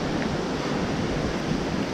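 A river rushing beneath a trail runner crossing above it, a steady broad wash of water noise throughout, fairly loud and unbroken.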